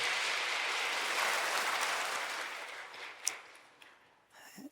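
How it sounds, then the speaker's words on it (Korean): A church congregation at a Sunday worship service claps loudly together, the dense applause gradually thinning out over a few seconds and ending in a few scattered claps. "하나님께 영광의 박수."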